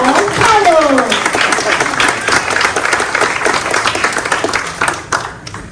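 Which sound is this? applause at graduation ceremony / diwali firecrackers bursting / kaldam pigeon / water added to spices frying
applause at graduation ceremony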